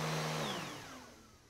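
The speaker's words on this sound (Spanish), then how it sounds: "tengo que pasar la aspiradora" Household vacuum cleaner in a cartoon home, its whining motor winding down with a falling pitch and fading over a second and a half.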